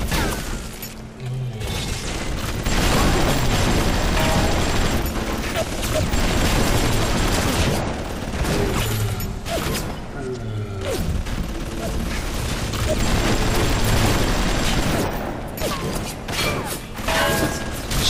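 Automated turret gunfire in BioShock, dense, continuous bursts and mechanical clatter layered with explosions and combat noise throughout, with someone talking over it.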